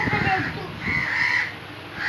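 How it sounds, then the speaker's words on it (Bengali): Crows caw nearby in two drawn-out harsh calls, the second following after a short gap, with a person talking quietly underneath. "কাকেরা কি করে দেখো?"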